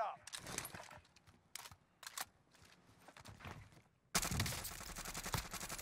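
Krig 6 rifle fire in the Warzone game on Rebirth Island, with scattered short bursts of shots and a heavy sustained stretch of gunfire at the end.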